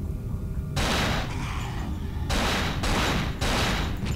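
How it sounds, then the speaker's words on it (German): Gunfire blasts a zombie's head off in the survival horror game Cold Fear: several loud bursts of shots fired in quick succession, each ringing out alone with no speech. "Und jetzt habe ich ihm den Kopf weggeballert"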